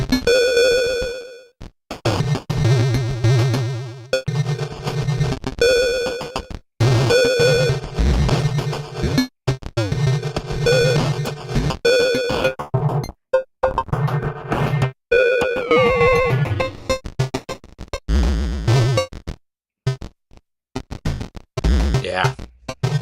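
Electronic beat with a crusher distortion effect, choppy bursts of harsh buzzing tones that start and stop repeatedly with brief silent gaps, loud and close.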